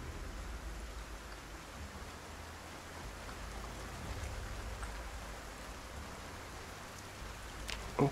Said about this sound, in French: la pluie se remet à tomber